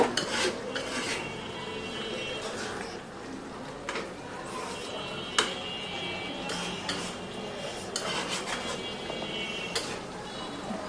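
Six eggs in a pan are stirred for an egg and potato curry, with repeated metal spoon scrapes and clinks against the cookware over a soft background hiss and faint voice.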